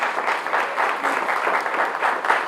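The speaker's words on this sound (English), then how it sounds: "And we give them a round of applause." An audience at a special education conference applauds steadily, a dense, even wash of many hands clapping together without letup for the whole stretch.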